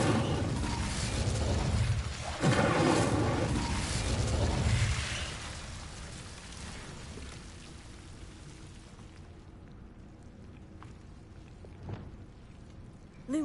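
An Incendio fire spell cast in Hogwarts Legacy bursts out as a loud, broad whooshing roar from the start. A sharp flare-up comes near the three-second mark, then the sound fades into a low rumble with a few small pops.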